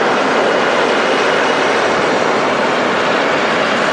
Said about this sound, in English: Such a huge aircraft.